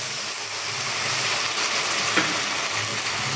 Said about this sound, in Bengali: একদম কম আঁচ দিয়ে মশলাটা কষিয়ে নেবে বন্ধুরা